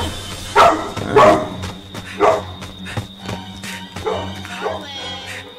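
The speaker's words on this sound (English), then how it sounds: "And I tell your dog to calm down." A pit bull in a Friday the 13th game barks in several sharp, loud bursts spaced about a second apart, with softer yips and whimpers between them over low background hum.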